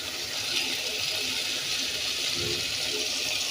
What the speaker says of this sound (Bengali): পানি দিয়ে দিচ্ছি একটু কষানোর জন্য।